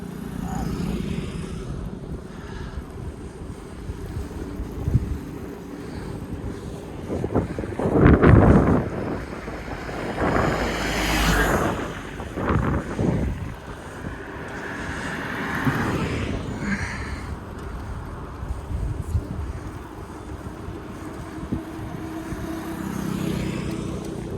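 Cool wind blows outdoors in the countryside, producing a steady broadband rush with heavier gusts buffeting the microphone; a faint voice occasionally sounds underneath.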